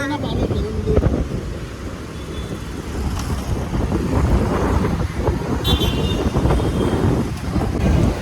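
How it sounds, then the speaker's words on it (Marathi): Strong wind buffeting the microphone outdoors, a loud continuous low rumble and roar with gusty swells throughout, close and heavy, with a voice talking and faint traffic beneath. "एवढी हवा आली इकडे"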